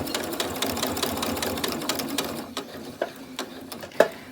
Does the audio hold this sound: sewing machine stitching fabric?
yes